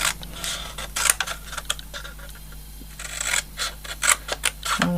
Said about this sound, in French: on les découpe encore en deux